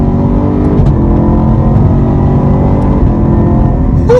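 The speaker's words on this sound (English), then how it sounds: "we can try a passing power one time, third gear on the gas" Car engine pulling hard under full throttle in third gear, a steady loud drone that holds without letup, with harmonics climbing slightly as speed builds.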